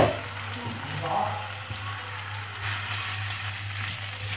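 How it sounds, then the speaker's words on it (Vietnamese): Boiled dried bamboo shoots are stir-fried in a pot, giving a soft, steady sizzle with occasional faint stirring scrapes and a low background hum. "mình sẽ xào như thế này để cái phần măng nó có cái gia vị nó sẽ ngon hơn nhé các bạn."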